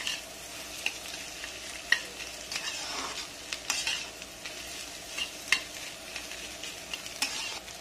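Chopped green chillies fry in a pan for pasta while a utensil stirs them, producing a continuous sizzle broken by frequent scraping clicks; no voices.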